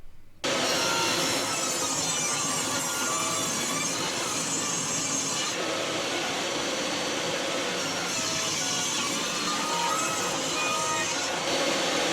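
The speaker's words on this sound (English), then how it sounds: "Now the next step of the plan is to cut a 12-degree bevel on one of the edges." A saw cuts a 12-degree bevel along the edge of a wooden slat for a chair seat, giving a steady, loud, continuous rasping drone that holds for the whole stretch after a brief quiet start.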